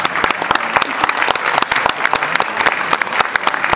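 A crowd applauds a lifter at a national raw powerlifting championship, steady dense clapping with sharp individual claps standing out, loud and close, carrying on for several seconds without talk.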